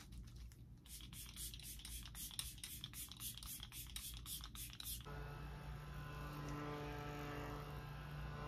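Rapid bursts of a makeup setting spray's pump hiss close by, then a steady airy whoosh with a faint low hum underneath.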